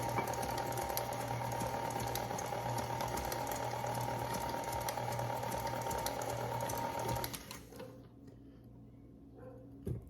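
A stand mixer whirs steadily at low speed, slowly folding egg yolks into a low-carb shepherd's pie mixture, a close, even motor hum with a rhythmic churn that cuts off sharply near the end, leaving quiet clatter.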